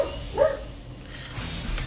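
A brief bark or yip from a dog in the JRPG Tales of Xillia, one short cry standing out once over a quiet game background.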